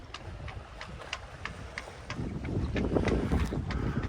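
Steady wind rushes over the microphone aboard a Hustler 30 sailboat on a calm morning, with faint regular ticking in the rigging and a rising gust near the end; nobody talks.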